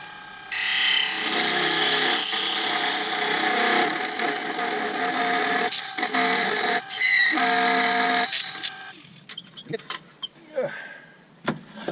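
Abrasive sanding on a small wooden lighthouse spinning on a woodturning lathe, using True Grit Superfine paper: a steady, loud whirring scrub for several seconds that breaks into shorter rubbing strokes and then trails off.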